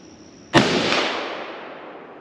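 .257 Weatherby Magnum rifle fired once on an outdoor range, a single sharp, loud crack followed by a long rolling echo that fades over about two seconds.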